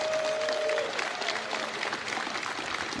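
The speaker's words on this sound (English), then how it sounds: "Everybody, a round of applause for Rich Tyra" Steady clapping from an audience at the CitizenCon 2024 convention fills the clip, a dense wash of hand claps with a brief tonal voice-like sound early on.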